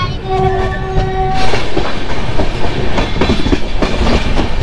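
A passenger train on the Howrah to Ghatshila route rumbles steadily along the rails with rhythmic clickety-clack, preceded by a brief horn blast at the start.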